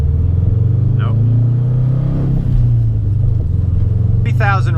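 A Subaru WRX STI engine drones loudly and steadily from inside the cabin, with a brief dip midway like a gear change, while a voice speaks briefly over it.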